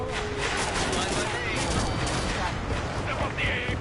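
Anti-aircraft gunfire in a naval battle video game, a dense, continuous loud barrage of rapid shots and booms filling the whole clip, with shouting voices over the din.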